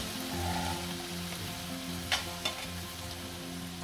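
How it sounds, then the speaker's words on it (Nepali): Chicken syafale filling sizzles in a pan with salt while being stirred, a steady close frying hiss broken by a couple of sharp scraping clacks. "नुन राखेर राम्रोसँग भुटिएको छ।"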